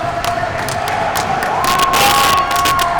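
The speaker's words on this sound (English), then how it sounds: "Foot stomps from upstairs" A loud indoor crowd at a real tennis world championship match cheers and whoops continuously, with rhythmic foot stomps from an upper gallery thumping through the sustained roar.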